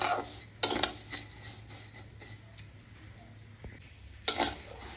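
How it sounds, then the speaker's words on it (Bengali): A utensil stirs vermicelli frying in ghee in a pan as it turns golden for kheer. Scraping and a few sharp metallic clinks against the pan stand out over a faint background, with no talking. "দিয়ে সেমিয়াটাকে এবার ভালোভাবে এখানে ফ্রাই করে নেব গোল্ডেন কালার করে।"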